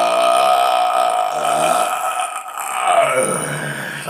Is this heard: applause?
no